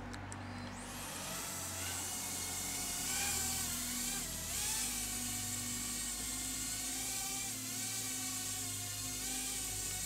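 A BETAFPV Air 65/75 micro drone, flying after a frame repair, gives off a steady high-pitched whine. The pitch rises and falls as the throttle changes, close by and with no talking.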